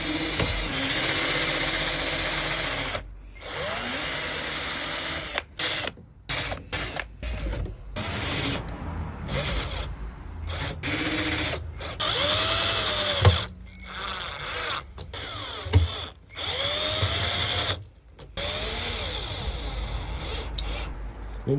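Power drill driving screws into wood while a compost bin is built, a loud sustained whirring that rises and falls with several short pauses and pitch sweeps as each screw seats.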